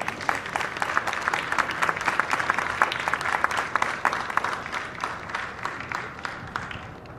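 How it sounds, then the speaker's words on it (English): Audience applause at a Marine Corps recruit graduation ceremony for Kilo Company, honoring the company staff; steady, dense clapping from a large crowd, sustained throughout and tapering slightly at the end. "please join me in a round of applause for the company staff"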